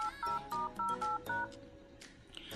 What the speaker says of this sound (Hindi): बस इस कोड को अपने फोन में डायल कर लेना है।